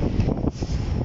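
Strong wind buffets the microphone in a steady, loud, low roar with a brief dip partway through, alone with no voices, outdoors near a condo by City of Dreams.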